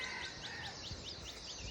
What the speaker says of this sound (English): Mostly finches, cardinals, Brazilian cardinals, some doves.